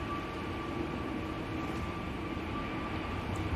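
Low, steady jet engine rumble from a Tui Boeing 737 Max at a windy Manchester Airport, heard at a distance as a constant broadband roar without clear change.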